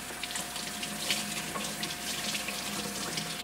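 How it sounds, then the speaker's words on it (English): Cured copa being rinsed under a running kitchen tap, a steady close hiss of flowing water into the sink with slight splashing variations throughout, no voices. "I'm gonna rinse it off."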